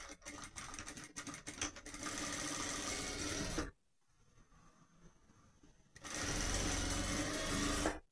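A sewing machine runs in steady buzzing bursts stitching the hem of a pair of shorts, close and continuous, pausing for a couple of seconds in the middle before starting again.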